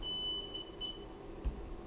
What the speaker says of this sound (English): You heard it, it beeped.